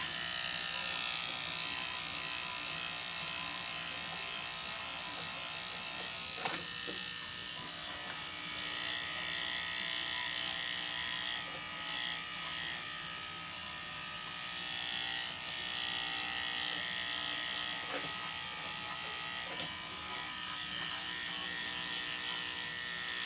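Electric clippers buzz steadily and close while shaving a powder puff Chinese crested dog down to hairless, with a constant drone and small shifts in pitch as the blade moves through the coat.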